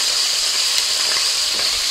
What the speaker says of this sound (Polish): Wrzucamy czosnek.